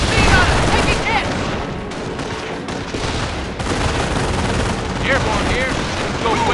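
Machine gun fire in Company of Heroes on Android, in the Carentan mission: sustained loud rattling bursts with booms mixed in, under faint in-game voices.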